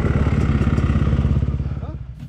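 A Yamaha YZ250X two-stroke dirt bike rides single track, its engine firing in a rapid, rhythmic pulsing drone that eases off toward the end, close and loud.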